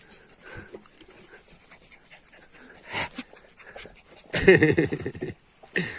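A dog pants rapidly and heavily in the heat up close, the quick breathy rhythm growing louder and more insistent toward the end.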